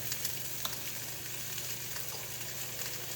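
Meat for a pot roast sears in a hot pot, producing a loud, continuous, even hiss and crackle up close, with no talking over it.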